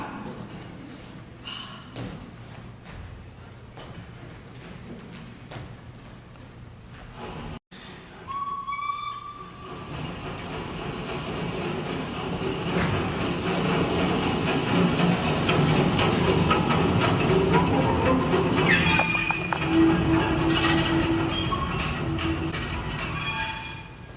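A train sound effect played during a high school stage production, a low rumbling rolling noise with whistle-like tones that swells steadily louder over the second half, filling the room with little talk.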